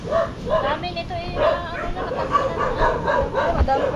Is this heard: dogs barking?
yes